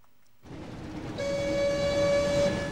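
A train rumbles through a tunnel in the PS1 video game Harry Potter and the Chamber of Secrets, rising from silence into a loud roar with a steady whistle-like tone over it.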